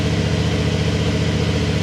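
A Yamaha MT-450 engine idles steadily during coolant circulation, a close, even, low mechanical drone with a regular pulsing throb and no voices.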